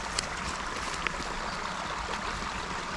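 A creek flows with a steady, close rush of water, broadband and even in level, with a couple of faint splashes or clicks near the start and no voices.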